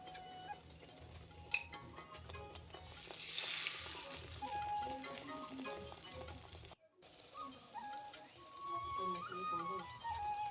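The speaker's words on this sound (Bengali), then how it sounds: "উল্টো সাইড ঘুরিয়ে দেব, উল্টে পাল্টে ভেজে নেব।" Carom leaf fritters coated in gram flour batter fry in hot oil, giving a quiet, steady crackle of small ticking pops and bubbling that keeps on for several seconds, with a brief dip partway through.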